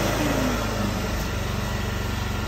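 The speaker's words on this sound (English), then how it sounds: "And then the revs go back down." A small Skyvac Atom generator engine runs loudly and close, its pitch sliding down as the revs drop back to a steady idle hum; no talking.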